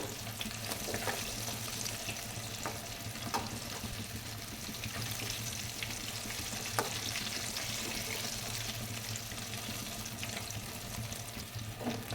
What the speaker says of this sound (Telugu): ముక్కలను అటుపక్కకు ఇటుపక్కకు తిప్పుకుంటూ బాగా కాలే వరకు వేయించుకోవాలి.